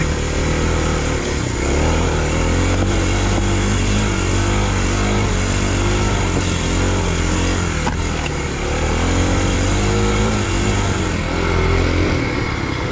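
A Kawasaki KLX250 dirt bike climbs steep single track, its single-cylinder engine loud and close, revving and bogging in uneven surges without letup.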